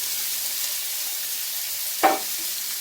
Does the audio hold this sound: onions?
yes